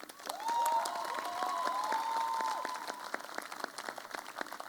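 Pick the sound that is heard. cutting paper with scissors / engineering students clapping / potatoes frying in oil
engineering students clapping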